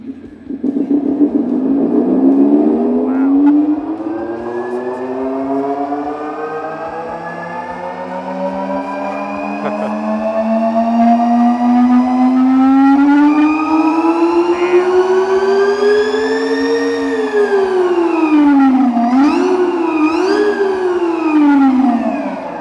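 A Tarform all-electric motorcycle revs through its synthetic engine note, a loud harmonic tone that climbs steadily in pitch over about twenty seconds, dips and swoops, then rises again, sounding alone without talk.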